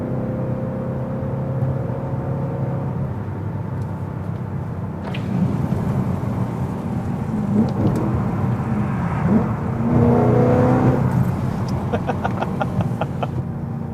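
A BMW E92 M3 with its S65 V8 revs and drives: a dense, steady low rumble fills the cabin, swelling louder and rougher toward the end, with no one speaking.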